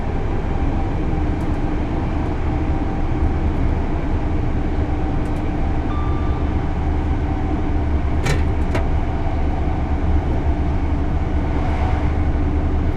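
Class 801 Azuma train at high speed on the East Coast Main Line in Train Sim World 4 under minimum braking, a loud steady rumble and rail roar throughout, with brief sharp clicks midway and no voices.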